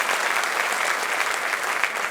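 Sustained applause from a leadership conference audience, dense and steady with no pauses, filling the room at even loudness throughout.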